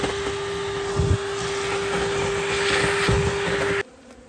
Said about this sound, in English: I'll hoover out that wasp nest